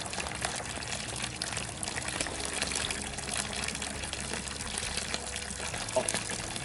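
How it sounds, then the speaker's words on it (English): Water pours and trickles steadily into a portable water filter on a hiking trail, a continuous close splashing with faint outdoor background, no talk over it. "I'm definitely going to put this water in my water filter"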